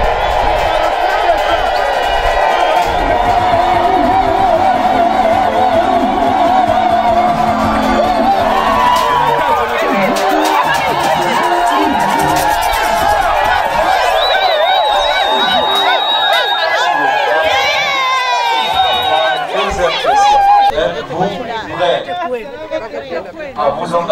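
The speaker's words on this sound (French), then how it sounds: "nous allons applaudir pour les salutations de le grand maître de l'OBH" A large crowd at a formal association ceremony, greeting its grand master, cheers and whoops loudly and continuously, a dense roar of voices and shouts that thins near the end.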